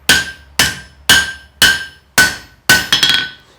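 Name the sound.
hammer blows forging a steel tent stake on an anvil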